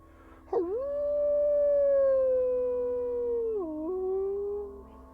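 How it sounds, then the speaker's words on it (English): A long, loud, sustained howl rising sharply, holding a wavering wail for several seconds, dipping briefly near the end before trailing off. "A howl, a wailing shriek, half of horror, half of triumph"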